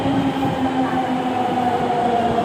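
A Delhi Metro Pink Line train runs at a subway station, producing a steady rumbling roar with a low motor hum that stays loud and even throughout.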